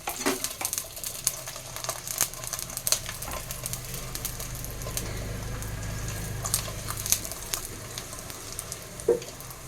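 Round pea-stuffed paratha frying in hot oil in a kadai over a medium gas flame, giving a steady close sizzle with scattered crackles and pops throughout and no talk.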